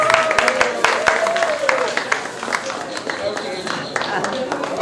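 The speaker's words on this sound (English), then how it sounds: "A hand of applause for Mrs." An audience at a Houston cancer walk in 2018 claps for a cancer survivor receiving a medal, with scattered sharp claps under ongoing talk.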